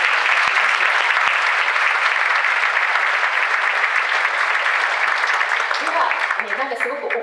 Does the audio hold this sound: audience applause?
yes